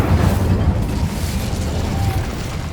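Incendio fire spell in Hogwarts Legacy, a loud rumbling whoosh of flame right up close, sustained and fading slightly toward the end, no talk.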